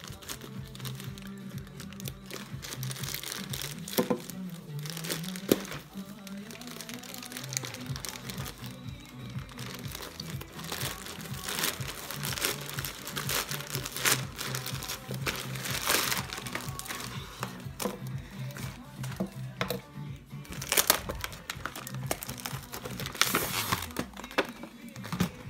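Packaging for a sports camera being unboxed, with close, continuous crinkling and rustling of plastic and paper and occasional sharper crackles throughout, with no talking over it.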